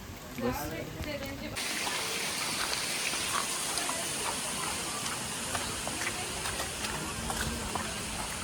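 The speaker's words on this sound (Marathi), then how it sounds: "पाऊस पडतो बाहेर" Rain falling outside near the Karla caves at Lonavala, a steady dense patter and hiss throughout, with people talking over it.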